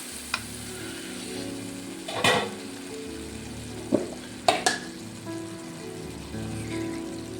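Tomatoes and chana dal fry in a pan, a steady soft sizzle with a few sharp scraping stirs and clinks scattered through, no talking.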